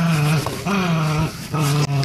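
Dogs growl and whine in drawn-out, close, loud bursts, three sustained vocal rumbles separated by brief gaps, with no talking over them.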